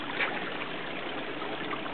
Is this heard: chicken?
no